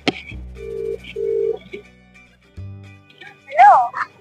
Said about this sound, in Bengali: রিং হচ্ছে গাইস, রিং হচ্ছে।